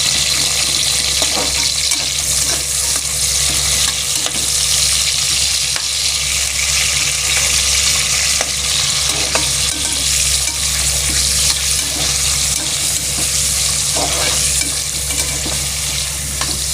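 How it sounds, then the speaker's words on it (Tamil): Onion, tomato and a single green chilli sauté in a pan with a steady, loud sizzle and frying crackle running the whole way, with scattered stirring scrapes and clinks and no talking. "வெங்காயம், தக்காளி, ஒரு பச்சை மிளகாய் போட்டு வதங்கட்டும்"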